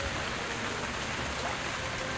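Steady, dense rain hissing down onto a wind grove in the video game Quench, a continuous broadband patter at even loudness with no pauses and no voices.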